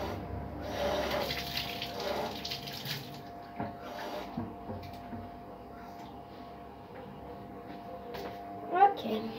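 Water running from a tap while a basin is emptied and refilled during cleaning, a steady close splashing stream under a voice that talks intermittently, with a few brief clunks.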